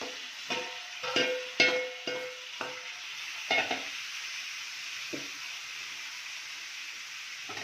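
Half a kilo of tomatoes sizzles in a hot pan, opening with a run of sharp stirring clatters that settle into a steady, fairly quiet hiss.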